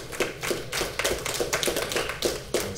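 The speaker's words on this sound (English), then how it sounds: "give God a hand clap of praise" A church congregation gives a quick round of clapping in praise, with rapid, fairly soft, irregular hand claps overlapping for a few seconds.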